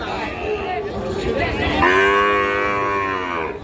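A Sahiwal bull calf at a cattle market lets out one loud, drawn-out moo close by, over a low murmur of market background noise.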